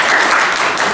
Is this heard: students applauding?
yes